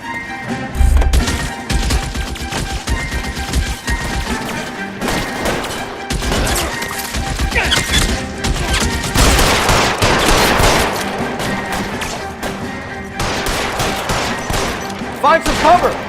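Rapid bursts of automatic and single-shot gunfire in the video game L.A. Noire, loud and sustained across the whole stretch, with shouted voices mixed in.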